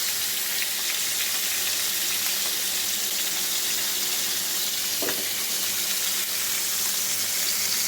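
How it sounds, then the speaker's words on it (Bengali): Hilsa fish frying in hot oil in a kitchen, a steady close sizzle and crackle that runs the whole time, with one brief louder pop partway through and no talk. "তেল দিয়ে দিলাম, এখন মাছটা ভাজি।"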